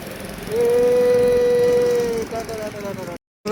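A boat engine drones nearby and steadily. For about two seconds a sustained whistling tone rises above it, then the sound cuts out briefly near the end.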